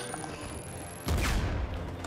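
A sudden burst of gunfire erupts in Uncharted 4 after a quieter stretch, loud and close, with a rapid cluster of shots that trails off within a second.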